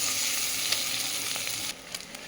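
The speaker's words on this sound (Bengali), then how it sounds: "এবার আদা বাটাটা দিয়ে দিচ্ছি দিয়ে আদাটাকেও ভালো করে ভেজে নেবো" Ginger paste fries in a pan with onion and garlic, making a continuous dense sizzle throughout with faint stirring scrapes and no talking.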